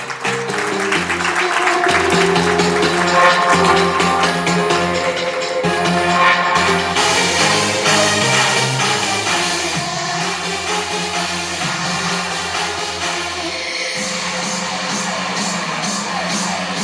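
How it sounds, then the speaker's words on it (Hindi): Audience applause and cheering for two people called onto the stage at a company awards and recognition event, a sustained wash of clapping with whoops running steadily throughout. "प्लीज इन लोग के लिए एक बार ताली हो जाए।"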